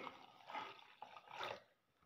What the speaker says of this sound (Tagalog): Ngayon, maglalagay tayo ng water.